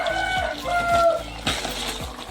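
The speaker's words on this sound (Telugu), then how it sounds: "ఈ కోడికూతలు ఇప్పుడు ఇలా లేవు" Chickens clucking and a rooster calling at a home, short tonal calls over a soft, rhythmic thumping background in a brief stretch.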